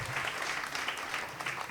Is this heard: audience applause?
yes